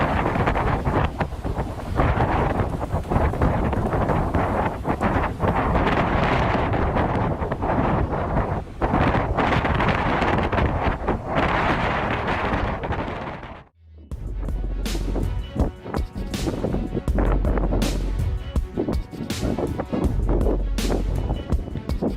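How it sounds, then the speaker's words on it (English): Powerful white surf crashes onto the shore in a loud, continuous roar, heavily buffeted by wind noise on the microphone, with a brief drop partway through before the crashing resumes. "The relentless white waves crash onto the shore with unstoppable force"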